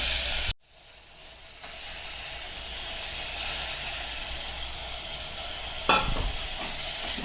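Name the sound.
mutton frying in oil with mint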